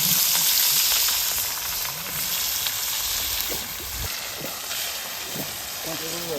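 A full wok of small river fish fries in hot oil in the Sundarbans, a loud, continuous hissing sizzle with occasional stirring scrapes and voices talking nearby.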